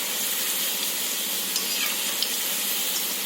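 Ragi pakoda, a finger-millet fritter, frying in hot oil with a steady, soft, continuous sizzle and a few faint pops, heard close and alone.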